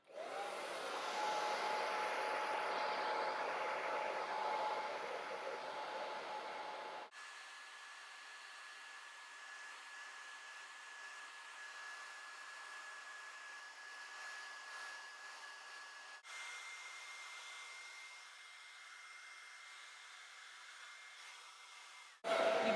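A hair dryer blows hair into a glamorous blow-dry, its steady whooshing hum running alone throughout, dropping to a quieter setting partway, shifting pitch again later, then surging louder at the very end.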